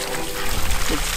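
Water runs from a homemade pressurised auto pump drawing from a deep well, a loud steady splashing flow close by, without talk.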